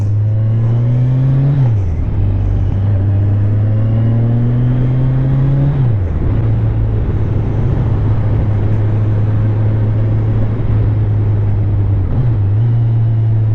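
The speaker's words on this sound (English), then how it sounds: "I like hearing all the transmission whines and the clutch and everything like working." A Kawasaki Ninja 1000 SX motorcycle drones loudly and steadily, its engine and transmission whine holding a constant pitch that dips briefly at three gear changes, recorded up close while riding.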